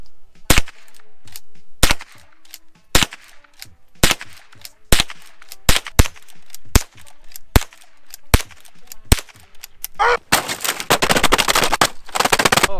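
An old Henry .22 rifle fires about a dozen sharp, separate cracks outdoors in freezing weather, spaced roughly a second apart, followed by a stretch of dense rustling noise at the end.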